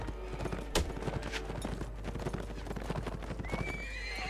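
In the Mount & Blade Warband video game, horses gallop with rapid continuous hoofbeats, and neighs and whinnies rise over them. The clip-clop stays dense and busy throughout, with a sharp whinny cutting through near the end.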